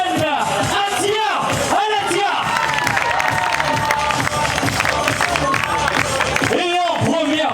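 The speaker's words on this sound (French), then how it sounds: "je vous demande d'applaudir bien fort Anne Atia" A crowd at an urban trail race awards ceremony in Saint-Pierre, Réunion, cheers and applauds a runner, with sustained clapping and whoops under loud announcer-style talk that rises and falls.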